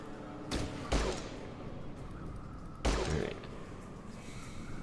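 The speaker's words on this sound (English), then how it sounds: "I think they're shooting explosives at us" Enemies shoot explosives in Fallout Tactics, with three loud blasts, two close together and then a third a couple of seconds later, each a sharp broadband bang over a steady game background.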